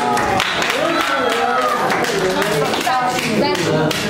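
An audience claps steadily through the moment while someone talks over the applause.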